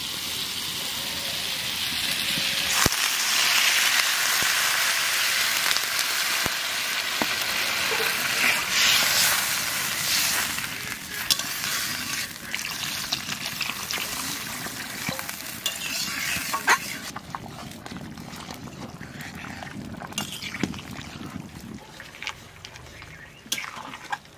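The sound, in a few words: potatoes sautéing with spices in pan for fish curry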